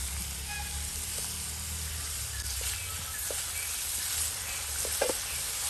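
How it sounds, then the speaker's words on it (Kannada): Onions and curry leaves fry in a pan for an egg pepper fry, making a continuous soft sizzle with a few faint stirring clicks near the end. "ಸ್ವಲ್ಪ ಕರಿಬೇವಿನ ಸೊಪ್ಪನ್ನು ಹಾಕ್ತಾ ಇದ್ದೀನಿ."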